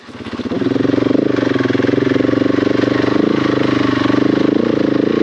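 KTM 690 single-cylinder motorcycle engine on rough singletrack in second gear, a loud close throb that quickly climbs to a steady pulsing drone and holds under load.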